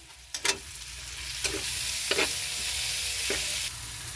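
Onion and tomato sautéing in a pan for a chayote vegetable dish, a steady close sizzle broken by a few sharp scraping stir strokes, with no talking.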